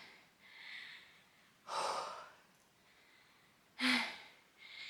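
Someone out of breath after carrying twine up from a garage breathes heavily and quietly, with a slow run of soft breaths broken by two sharper, louder gasps.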